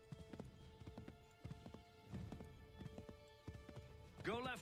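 A horse's hooves clip-clop in a rhythmic run through the Assassin's Creed 3 game world, steady beats under quiet ambience, ending with a short whinny.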